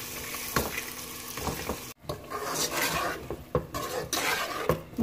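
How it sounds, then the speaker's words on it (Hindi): Mash dal being fried and stirred with spices in a pan, with steady sizzling and repeated scraping strokes of a spoon against the metal, close and fairly loud with no talking. "इसकी थोड़ी हम भुनाई करेंगे इसी में मसाले के साथ"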